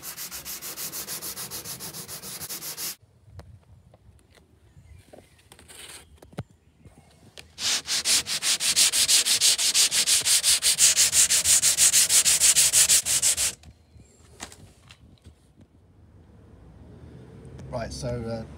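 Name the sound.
sanding with 80 grit paper on a flexible sanding block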